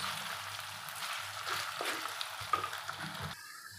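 Cabbage and carrots fry in a pan while being stirred, a steady close sizzle broken by scraping and clattering strokes that stop abruptly near the end, with no one speaking.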